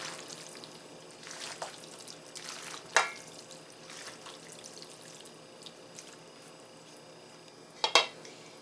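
Tuna salad being stirred in a bowl: soft, intermittent scraping and clinks of a utensil against the dish, with a couple of sharper taps, fairly quiet and close.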